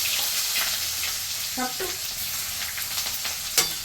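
Onions sizzle in hot oil in a pan for katla fish kalia in a village kitchen, a close, steady frying hiss with a few utensil clinks and faint voices in the background.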